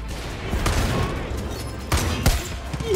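Gunfire in the video game Far Cry New Dawn, a few sharp shots standing out over a steady bed of game ambience, moderately loud, with no talk.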